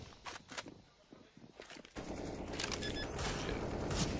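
Counter-Strike gunfire on the Mirage map during a professional esports match, a dense burst of rapid shots and game noise that grows louder and more continuous halfway through, with a caster talking over it.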